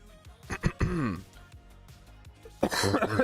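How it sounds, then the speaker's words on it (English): A man clears his throat in a couple of close, rough rasps early on, with muffled talk and a later stretch of louder voice and noise in a live-streaming setting. "let's see how many times I have to clear my throat before I can actually start"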